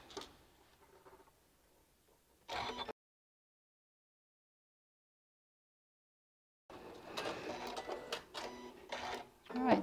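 Sewing machine stitching a quilt block for a LeMoyne star, with two bursts of fast mechanical chatter separated by a long silent gap, close and moderately loud.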